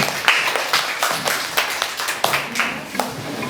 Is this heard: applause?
yes